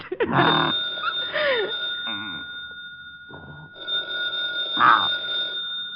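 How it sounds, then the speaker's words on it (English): A telephone bell rings in repeated bursts with a steady high electronic tone underneath, while voices talk over it. "the phone's ringing"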